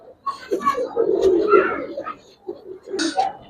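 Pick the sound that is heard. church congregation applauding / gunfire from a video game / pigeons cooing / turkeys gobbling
pigeons cooing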